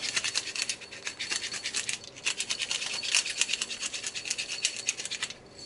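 A hand spice grinder twists Cajun seasoning onto tilapia fillets with quick, rhythmic rasping strokes. The crunching is close and continuous for several seconds, then stops.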